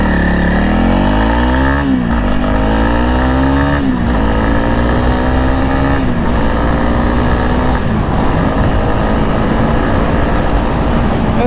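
A Honda CRF 300 motorcycle accelerates hard from a quick start, its loud close engine revving up and shifting through several gears with rising and falling tones.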